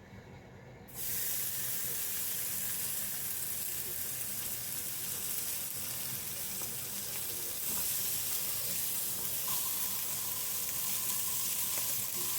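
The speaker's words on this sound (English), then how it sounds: "So nice hot pan, stick my bacon in." Bacon frying in a hot pan: a loud, steady sizzle that bursts in after a brief quiet moment and holds evenly throughout, with no one talking.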